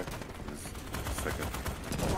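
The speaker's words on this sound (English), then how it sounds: "I think I'm being shot at by a range guy as I run as well." Ranged enemy gunfire in the video game Starship Troopers: Extermination, a dense burst of rapid shots crackling fairly quietly under a busy, noisy game mix.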